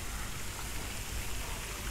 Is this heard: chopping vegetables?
no